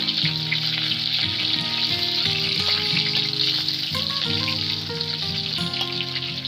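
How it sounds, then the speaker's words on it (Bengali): Onions and chilies frying in a pan give a steady, even sizzle that runs the whole time beneath melodic background music, with no talking. "এবার নেড়ে নিয়ে পেঁয়াজ লঙ্কা হালকা লালচে করে ভেজে নেবে।"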